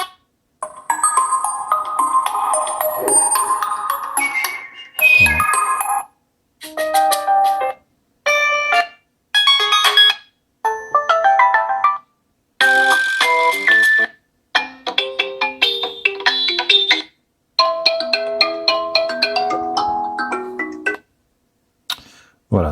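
Ringtones previewed on a Lenovo Z5S smartphone, a series of short melodic tone snippets that start and stop abruptly one after another, close and clear, with a voice speaking briefly between some of them.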